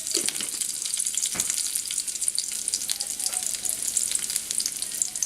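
Mustard seeds, onion and dried red chili fry in coconut oil, giving a steady close hiss of sizzling with scattered pops and crackles, plus one sharper spatter, and no talk over it.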